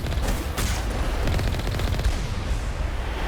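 Rocket gun on the Mako vehicle in Mass Effect blasting rocket troopers, a dense rumbling barrage of booms and explosive bursts running continuously and loud throughout.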